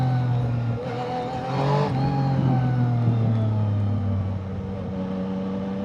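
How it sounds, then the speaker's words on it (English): Engine drone and road noise of an XSR 900 motorcycle riding through heavy weekday street traffic near a freeway, a steady rumble with a shifting pitch and a brief swell of a passing vehicle. "during the week there's so much traffic on this street."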